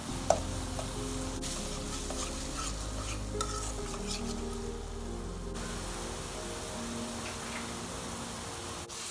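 Ginger paste fries and sizzles in a pan under steady stirring, with a spoon scraping and clinking against the metal throughout and no talking.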